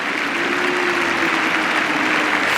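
A crowd at an England v New Zealand Test cricket match applauding steadily, a dense, even wash of clapping from many spectators that carries loud and unbroken throughout, with no clear voices.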